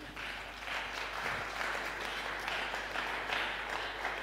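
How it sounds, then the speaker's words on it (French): Church congregation applauding in a sustained, even wash of many hands clapping, steady and moderately loud throughout with a low hum underneath. "Est-ce que quelqu'un peut acclamer?"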